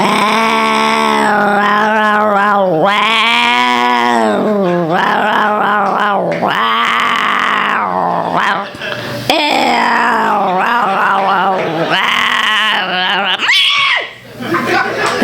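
A comedian on stage imitates a male cat's yowl, a voice producing a long, loud, wavering run of drawn-out growling cries with rising and falling pitch, continuous for several seconds before a brief break and a final strained burst.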